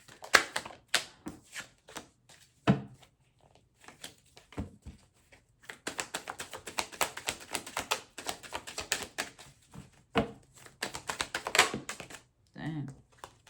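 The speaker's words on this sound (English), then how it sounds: "Let me pause and pick up all these cards." Tarot cards being gathered up and pulled from a deck, with quick papery taps, flicks and shuffling rustles coming in scattered bursts close to the microphone, with a voice talking at times.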